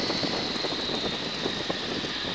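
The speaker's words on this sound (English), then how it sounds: "Don't listen to the engine sound." Boeing Stearman biplane engine droning steadily in flight, a loud continuous hum with a high whine, heard from inside the open cockpit without pause.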